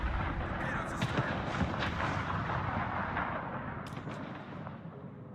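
Naval gunfire rumbles through a World of Warships battle, a dense continuous roar of distant cannon and shell bursts with a few sharper cracks, under game background and faint voices.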